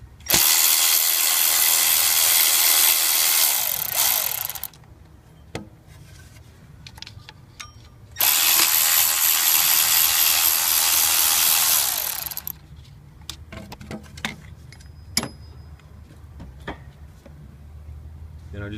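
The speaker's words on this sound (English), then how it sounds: "Loosen the two 8mm bolts in front." A power tool or ratchet loosens 8mm bolts on a Ford 7.3 Powerstroke diesel engine, running in two loud sustained bursts of several seconds each, followed by scattered clicks and clanks of tool handling.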